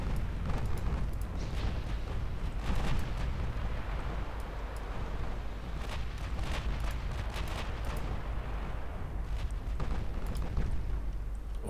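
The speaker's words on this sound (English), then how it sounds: "More torpedo hits." Torpedo hits explode against warships in Ultimate Admiral Dreadnoughts, a continuous rumbling roar of blasts and crackling bursts, loud and dense, with several sharper impacts standing out through the din.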